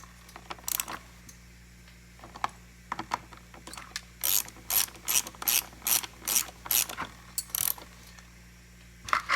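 Ratcheting clicks of a hand tool tightening screws on the fuel tank of a Stihl MS 260 chainsaw, fixed into plastic, in short sparse bursts at first, then a steady run of close, crisp ratchet strokes.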